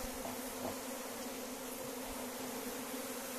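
A dense swarm of stinging honey bees buzzes continuously during a hive transfer, a steady, close droning hum with no talking.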